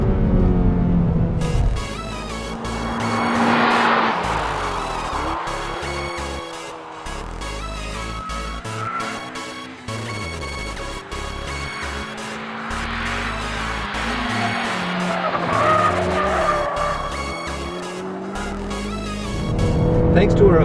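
A 2014 Honda Civic Si Coupe with a revised exhaust is driven hard around a test track, its engine revving loud and close as it climbs and drops through the gears, with steady music playing underneath.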